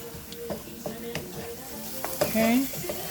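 Tropical jackfruit chili cooks down in a pot with a continuous close sizzle and regular spoon stirring, plus a brief tonal squeak near the end.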